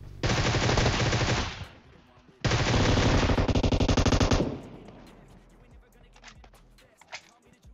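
Automatic gunfire in the video game PUBG, two long loud rapid bursts of about one and two seconds each, separated by a short gap and followed by quieter game ambience with a faint later shot.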